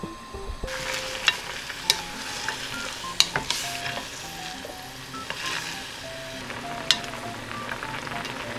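Beef goes into a pot of soft tofu stew made from a meal kit and cooks while being stirred, with close, sharp clinks and scrapes of a utensil against the pot over a low, steady simmer.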